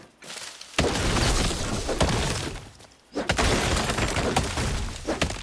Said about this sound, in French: le bruit que l'arbre il a fait